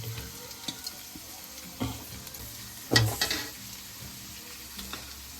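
Onion and green chilli sizzling in a pan for chicken chilli, a soft continuous fry close by with a few spoon knocks and one sharper clatter partway through.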